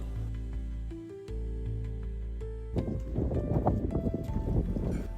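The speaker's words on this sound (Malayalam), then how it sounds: "ഇവിടുത്തെ ഇപ്പം ഞാൻ ഇത്ര സ്പീഡിൽ കാറ്റടിക്കുമെന്ന് ഒരിക്കലും വിചാരിച്ചില്ല" Strong wind sweeping across a hilltop trail at Ambaji Durga near Bangalore. After a quieter tonal opening, loud, rough gusts buffet the microphone.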